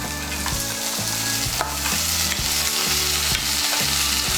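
Potatoes coated in spices, with boiled chickpeas, fry in a pan for Bengali cholar ghugni: a loud, unbroken sizzle with rhythmic scraping strokes as the mixture is stirred close up.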